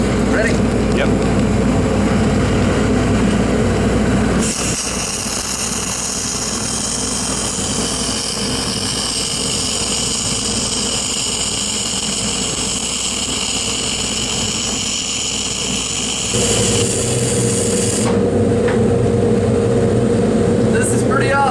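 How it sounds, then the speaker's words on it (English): Dual shield flux-core wire feed welding gives a loud, steady crackling hiss that holds for about twelve seconds, with hum and background noise before and after the arc. "That is very, very hot welding."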